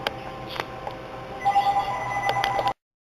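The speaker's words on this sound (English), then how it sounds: "Oops, there goes the phone." A telephone rings in a home kitchen while stuffed peppers are being made, its bell-like trills repeating in quick bursts over a steady low hum, growing louder toward the end before cutting off abruptly.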